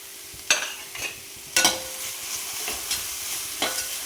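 Onions frying with crushed garlic and ginger for chicken dhopyas are stirred in a pan, giving a handful of distinct spoon scrapes at uneven intervals over a soft, continuous sizzle.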